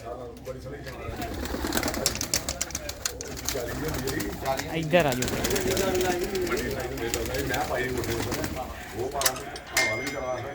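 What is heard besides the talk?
pigeons cooing in a loft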